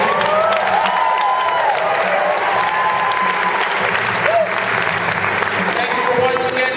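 Sold-out audience at a benefit concert honoring Dr. Martin Luther King Jr. fills the hall with sustained, dense applause and scattered cheers throughout, steady and loud from start to finish.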